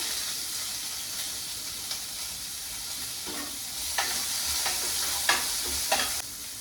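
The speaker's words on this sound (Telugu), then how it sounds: "బెండకాయలు కొంచెం ఈ కలర్ వచ్చేదాకా ఫ్రై అవ్వాలి" Okra and sliced onions fry in a pan for bhindi masala, a constant bright sizzle broken by several sharp scraping stirs that grow louder toward the end.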